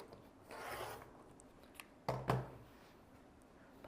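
Scissors cut fabric a quarter inch from a seam during a craft session, giving two or three short, crisp snips close by in a quiet room after some soft rustling.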